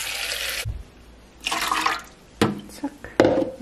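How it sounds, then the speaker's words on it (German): About 150 ml of water is poured in several short bursts of splashing and trickling, separated by pauses, close by and moderately loud. "150 Milliliter Wasser."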